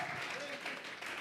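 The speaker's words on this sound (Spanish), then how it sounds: "¿Cuántos le damos un aplauso al Señor?" Church congregation applauding during a Spanish-language sermon, a dense steady wash of clapping that runs through the whole brief moment at moderate loudness.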